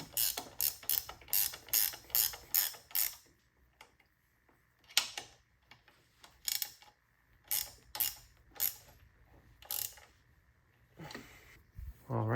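Bolts are tightened on HDB Ultimate hard-enduro hand guards, giving close, crisp ratchet clicking in quick bursts separated by short pauses.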